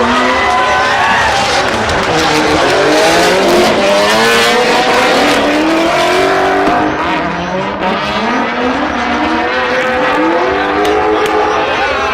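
Drift cars racing, Gaz Whiter's car pulling away from Chris Forsberg's less powerful one, a loud, continuous roar of several revving engines with rising and falling pitch and squealing tires throughout.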